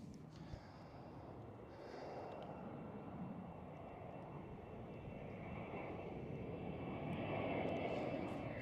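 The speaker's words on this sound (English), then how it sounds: "Former British Airways city flyer, E190." A former British Airways CityFlyer Embraer E190 jet at Schiphol Amsterdam produces a soft, steady engine rumble and whine that slowly swells louder toward the end, with a faint breathy noise near the microphone.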